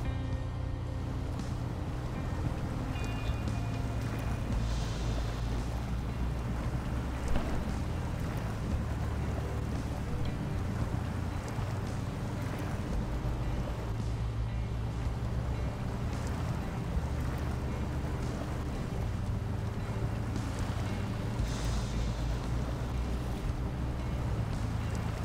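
In Snowrunner, a 4x4 truck grinds slowly through rough terrain in low gear with a steady, continuous low engine drone and rumble that holds unchanged throughout.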